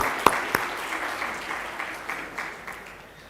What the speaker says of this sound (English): Can we give a big round of applause for Najla Mobeen?